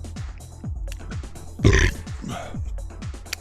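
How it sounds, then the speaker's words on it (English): A single loud, deep burp lands in the middle, amid low rumbling grunts and background noise. "Big burp."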